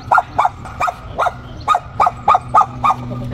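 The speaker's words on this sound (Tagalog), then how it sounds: "Ang ingay ng aso." A dog barks repeatedly in a steady rhythm, about ten sharp barks at mid distance against a quiet outdoor background.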